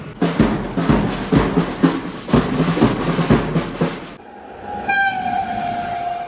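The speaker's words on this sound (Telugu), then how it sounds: "చూడండి మన ట్రైన్." A passenger train rumbles past with rhythmic clattering wheels on the Guntakal–Markapur Road line near the Nallamala forest, then a long, loud horn blast sounds close by as the rumble fades.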